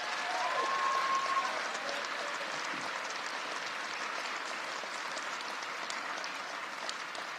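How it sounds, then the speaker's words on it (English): Audience applause fills a hall at a gun control announcement, a sustained dense patter of many hands clapping at moderate distance, steady for several seconds without voices over it. "Let's give her a big round of applause."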